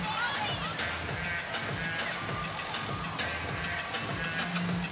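A college gymnastics crowd roars and cheers steadily through a floor routine in a packed arena, a loud, dense wash of voices with shouts rising above it.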